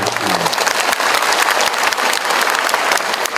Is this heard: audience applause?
yes